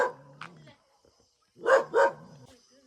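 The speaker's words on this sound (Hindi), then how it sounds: "वो खाली भौंक रहा है।" A dog barks outdoors in the hills in the evening, a few short barks followed by a louder close pair, with a person speaking nearby.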